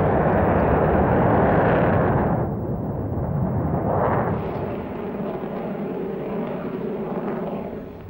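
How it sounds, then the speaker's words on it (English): Avro Vulcan delta-wing jet bomber flying, a loud, broad roar that holds steady, then dips and swells again as the aircraft passes, with no voices over it. "The Valiant was followed into service by the remarkably advanced Avro Vulcan."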